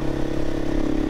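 A Herald Brute 500 motorcycle, single-cylinder four-stroke liquid-cooled engine, runs steadily with a loud, even throbbing drone and a low mechanical clatter that stays constant throughout the short stretch, with no voices.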